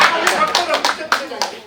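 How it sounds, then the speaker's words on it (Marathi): An audience claps at a book inauguration ceremony, with sharp bursts of hand claps scattered over about two seconds, fairly close and loud, mixed with people talking. "तुम्ही टाळ्या वाजवाल"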